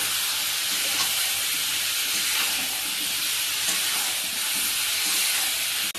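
Small cut potatoes frying with spiced goat offal in a pan give a loud, steady sizzle and hiss that runs unbroken and close throughout.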